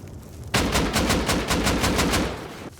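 Gunfire in the video game Rust: a sustained rapid string of about a dozen loud, evenly spaced shots, up close and dense, starting abruptly and stopping just before the end, with no voices.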